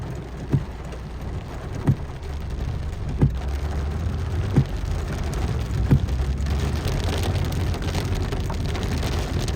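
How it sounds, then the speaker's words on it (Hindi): Steady, dense heavy rain hiss in Makkah fills the whole stretch, with faint regular thumps recurring about every second and a half beneath the downpour. "बारिश काफ़ी तेज़ हो रही है।"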